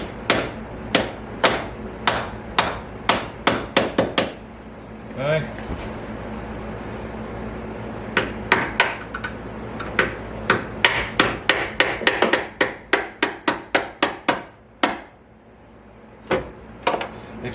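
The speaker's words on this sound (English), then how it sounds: "I'll have to tap it up with a hammer." Hammer tapping a door check strap pin out of a Mercedes W109, sharp metallic knocks in uneven bursts with a pause midway, close and loud, with a brief spoken word.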